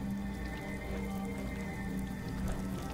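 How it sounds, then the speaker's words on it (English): A shower runs steadily in a bathroom inside a Fallout 4 bunker, a constant spattering hiss of water that is close and even, with no break and no voices. "water's coming out of the shower"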